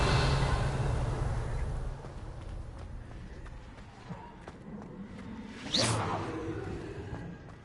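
The Revelio spell being cast in the game Hogwarts Legacy: a soft airy rush over quiet ambience, then one sharp rising whoosh that lingers briefly.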